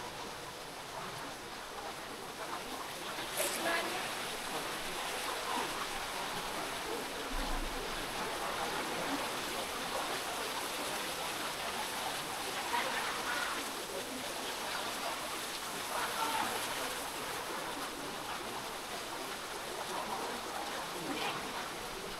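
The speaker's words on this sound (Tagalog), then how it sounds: "Agos na, lagaslas ng tubig." Water rushing steadily at Marilag Falls, a waterfall in Santa Maria, Laguna, a broad continuous roar, with faint bird calls now and then above it.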